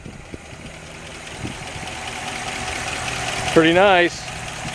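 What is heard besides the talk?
1957 Ford Thunderbird 312 engine idling, stock exhaust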